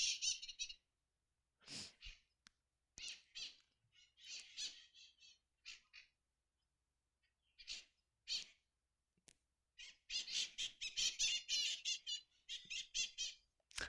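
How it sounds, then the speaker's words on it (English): Flock of wild parrots squawking loudly outdoors in Los Angeles, harsh shrill calls in irregular bursts and clusters with short gaps, growing into a dense chorus near the end. "Those parrots are so loud."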